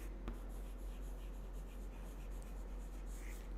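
Someone writes on a board during a lecture on averages, making a faint, steady scratching stroke with a sharp tap near the start, heard alone in a quiet room.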